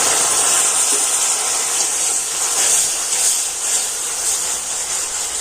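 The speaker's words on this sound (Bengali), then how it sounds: "জল দিয়ে কিন্তু ভালো করে নাড়াচাড়া করে নিতে হবে, তা না হলে এটা কিন্তু পুড়ে যেতে পারে।" Hot melted-sugar caramel hisses steadily as water hits it, a continuous bright, close steam-like hiss with a faint bubbling undertone and no speech.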